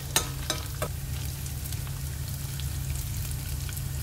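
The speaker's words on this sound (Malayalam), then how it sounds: "പിന്നെ ആ അരി ഒന്ന് പൊട്ടി വരും" Rice frying in a pan while making banana flower thoran, with a steady close sizzle and a few sharp pops near the start.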